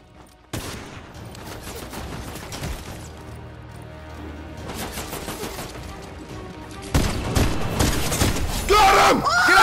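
Bursts of automatic gunfire and rapid shots from a Fortnite match, loud and dense, building into heavier volleys near the end, with excited voices yelling over the shooting.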